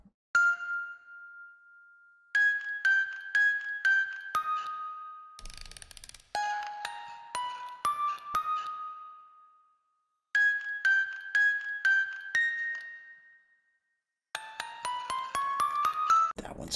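Bright, bell-like chiming from a looped beat in the Void mod of Incredibox, repeated ringing tones in rhythmic phrases with ticking mechanical clicks and short silent gaps between sections.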